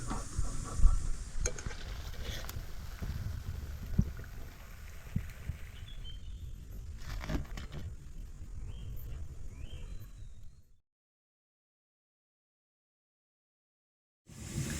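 Besan bhaji, round gram-flour fritters, frying in a pan of hot oil with a soft, steady crackle and occasional stirring clinks, close by, then a sudden stretch of silence before a brief return.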